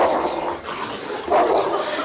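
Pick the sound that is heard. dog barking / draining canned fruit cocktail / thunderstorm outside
dog barking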